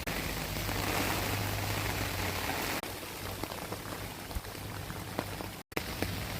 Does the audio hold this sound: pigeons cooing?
no